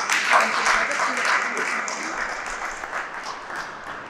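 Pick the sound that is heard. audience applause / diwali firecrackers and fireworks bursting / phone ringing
audience applause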